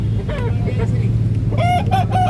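Roosters crow and chickens cluck at a chicken market in Makassar, Indonesia, over a busy, noisy background with a steady low hum, several birds calling close by.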